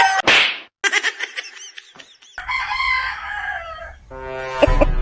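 A rooster crows loudly and close by, with clucking and a sharp whip-like crack between calls, and another long crow rising near the end.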